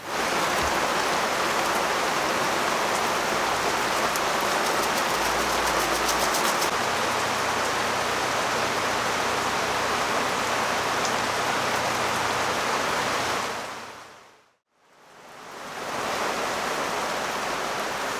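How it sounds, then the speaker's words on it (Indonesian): Heavy rain pours steadily on a family campsite at Tepas Papandayan in a dense, continuous hiss, loud and unbroken, briefly dipping toward the end before returning. "Hujan belum juga reda. Masih turun cukup deras sejak tadi siang."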